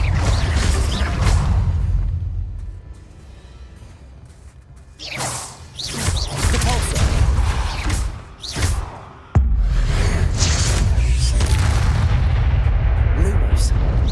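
Confringo explosion spell cast in the Harry Potter video game Hogwarts Legacy, heard as loud booming blasts with whooshing bursts over a dense, constant rumble of in-game battle noise.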